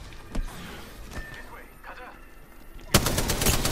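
Spitfire light machine gun fire in Apex Legends, a sharp sustained burst near the end after scattered single shots, with a player talking over game sounds.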